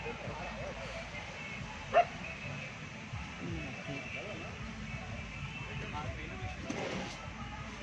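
A dog gives a short bark amid steady background noise, with a faint second yelp a few seconds later; voices murmur in the background.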